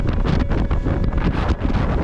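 Strong, steady wind on a mountain summit roars and buffets the microphone in a constant low rumble, with no voices.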